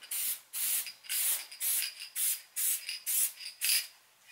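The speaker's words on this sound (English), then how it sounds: "Take your spray adhesive." Spray adhesive from an aerosol can hisses in about eight short bursts, roughly twice a second, while coating a Halloween skeleton prop; the close, bright sprays come with brief pauses between them.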